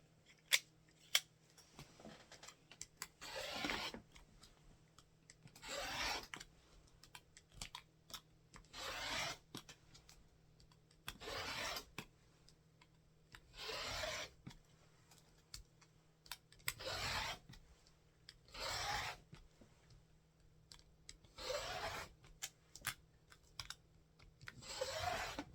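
Background fabric is cut into 1.5-inch strips with scissors in about nine separate bursts of crisp snipping and slicing, each lasting a second or two and separated by quiet pauses with faint handling, close and clear.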